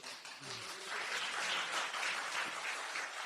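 Audience applause at a talk by a philosophy professor, a soft, distant wash of many hands clapping steadily for a few seconds with a faint voice underneath.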